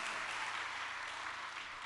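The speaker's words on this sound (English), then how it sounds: "Clap for the Lord." A church congregation applauds during a worship service, steady dense clapping that fills the short span at a moderate, slightly distant level.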